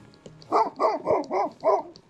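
Sheep-guarding dogs in the Texas Hill Country bark in a quick run of five loud, close barks, evenly spaced over about a second and a half, with no talk over them.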